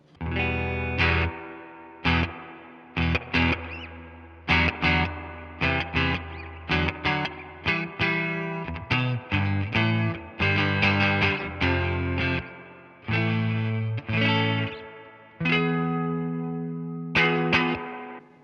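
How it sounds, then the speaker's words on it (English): An electric guitar through a Fender Tone Master Deluxe Reverb amp plays chords and notes with a wet, springy reverb, chorus and slight grit, the tails ringing and splashing between phrases. "it almost has that like springy sound to it, like the tube amp versions of this"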